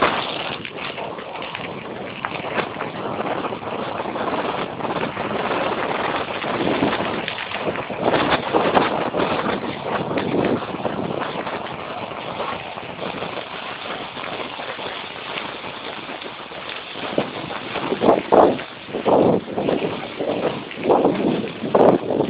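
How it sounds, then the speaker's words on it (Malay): Strong wind buffets the microphone throughout a field fire, a continuous rough roar with gusty surges that grow choppier toward the end. "angin juga kencang"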